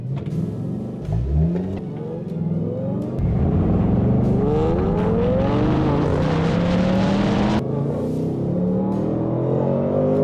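A tuned Nissan Z and a Ford Mustang GT launch in a drag race, engines revving hard with rising gear sweeps, loud and close, then a gear change and sustained high-rpm roar.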